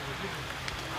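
Rain falls steadily outdoors with a continuous soft, even patter and hiss, fairly close and uninterrupted for the whole moment.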